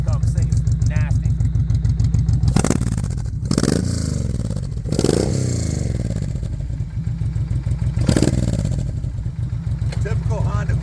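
A Honda VTX 1800 motorcycle engine runs near and loud with a steady low throb, rising in a few sharp revs, while people talk over it.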